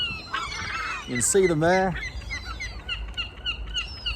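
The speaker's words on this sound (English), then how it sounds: "of birds who come squawking. Lots of the gulls, and I've got some pigeons here, and there's a few little crows, little jackdaws as well" Gulls, pigeons and jackdaws squawk and call while being fed, with one loud close honking cry and scattered chirps around it, under a person talking.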